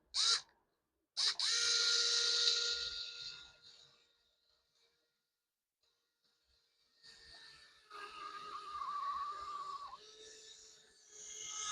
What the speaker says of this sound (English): Okay, so there's our hole drilled.